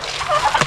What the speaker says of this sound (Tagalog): Nakikigulo na yung mga bibe natin.